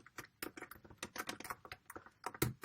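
Rapid, uneven keystrokes on a computer keyboard while code is typed, close and clear, with irregular bursts of clicks and a sharper key strike near the end, no talking.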